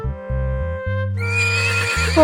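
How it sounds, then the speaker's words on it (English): A horse gives a loud, close whinny in a farm-animal sound sequence for children, rising after a brief musical lead-in and trailing off at the end. "Horse."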